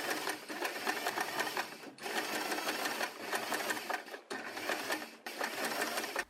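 Sewing machine stitching an elastic band onto fabric, a fast steady mechanical whir in three bursts separated by brief pauses, close and clear.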